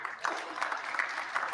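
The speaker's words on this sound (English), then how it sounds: "Golf claps." Light, polite golf-style clapping from a small group, steady and sparse, running through the whole short stretch at a moderate, somewhat distant level.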